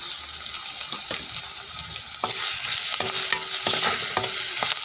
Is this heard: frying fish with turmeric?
yes